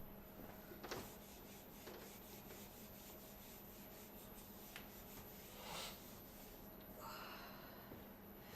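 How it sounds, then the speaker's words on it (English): Chalk being rubbed off a classroom blackboard during an engineering drawing lecture, a faint, steady scraping and brushing with a few soft knocks, heard alone against a constant background hum. "Let me to rub off the board."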